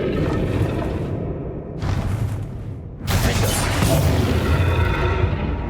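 Bombarda explosion spell cast in Hogwarts Legacy: a sudden loud blast about midway, following quieter rumbling combat sounds, with the blast's roar sustained to the end.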